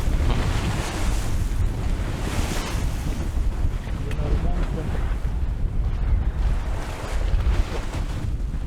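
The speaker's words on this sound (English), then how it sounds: "ploughing through the waves" A sailboat ploughs through waves at sea, with steady rushing water and strong wind buffeting the microphone throughout, loud and continuous.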